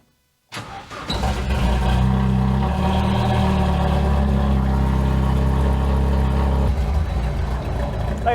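A rallycross car engine at a Susquehanna mudfest rallycross event starts up and settles into a loud, steady, slightly high idle with a deep rumbling drone, close by and with no voices.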